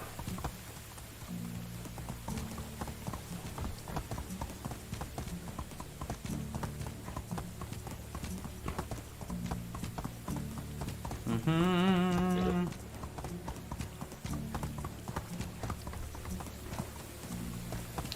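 Horse hooves clip-clop steadily through a medieval village in the game Medieval Dynasty, a continuous close rhythm of footfalls running the whole stretch, with a brief louder tonal sound midway.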